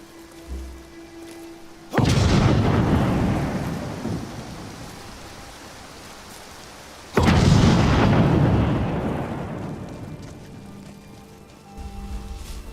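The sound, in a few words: rain falling in video game Skyrim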